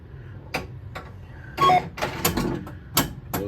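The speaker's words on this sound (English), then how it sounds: "Those are all totally normal sounds from Gottlieb Spider-Man." Electronic sound effects and mechanical clicks from a Gottlieb System 80 Amazing Spider-Man pinball machine during ball launch and play, with short tones and sharp ticks in an uneven rhythm, close and fairly loud.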